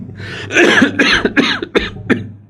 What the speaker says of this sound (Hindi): खांसी चल गई